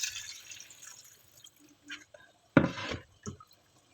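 Water is poured into a pot of marinated pork ribs, with a few short splashing, dripping bursts and gaps of quiet between them, close by and fairly soft.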